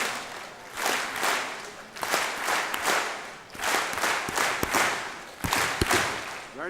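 A group at a district installation event claps in unison, bursts of sharp claps in a repeating pattern with brief pauses between, loud and close.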